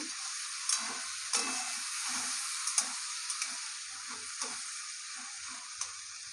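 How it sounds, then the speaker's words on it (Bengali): Potatoes sizzle in hot oil, a continuous bright hiss broken by sharp clicks and taps as they are stirred in the pan, with no talking. "আলুগুলো আগে একটু তেলে দিয়ে দেবো"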